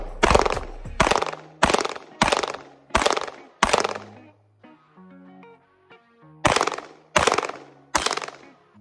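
A Glock 43X micro 9mm pistol fires ten rounds into an earthen bank at an outdoor range, loud sharp reports in two quick bursts of five, the second a short pause later, with faint ringing between.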